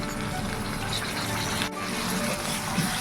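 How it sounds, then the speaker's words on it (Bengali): Water pours into masala cooking in a pan, making a steady gushing stream up close for about three seconds with a brief dip partway through. No one talks over it. "তারপর যে মশলাটা ভিজিয়ে রেখেছিলাম সেটা দিয়ে দিচ্ছি, আর তার সাথে দেবো অল্প একটু করে জল"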